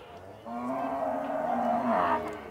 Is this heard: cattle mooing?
yes